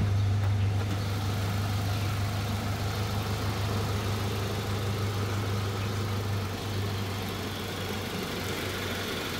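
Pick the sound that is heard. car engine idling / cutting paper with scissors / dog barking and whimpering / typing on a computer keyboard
car engine idling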